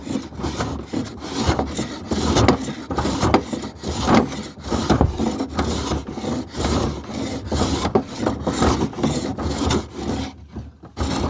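A hand shaver planes wood off a sticking desk drawer, making a quick series of close, raspy scraping strokes in an uneven rhythm.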